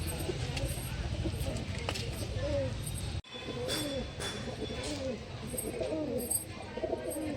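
Pigeons coo in repeated low, rolling phrases inside a loft, close and steady, with a brief dropout partway through and someone talking over them.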